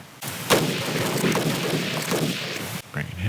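An anti-tank gun fires in the WWII Eastern Front strategy game Battle Academy 2, a sharp boom followed by dense crackling battle noise lasting a few seconds.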